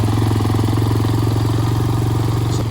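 A 250cc two-stroke dirt bike fitted with navigation gear idles steadily at close range, a loud, continuous buzzing putter with a rapid, even beat and no voices.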